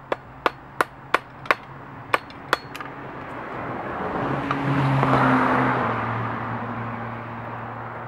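Metal being hammered at a newly run forge, about seven sharp, ringing blows in quick succession, close and loud, then fading into a low rumbling roar of the forge fire.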